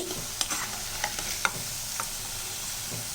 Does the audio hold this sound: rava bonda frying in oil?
yes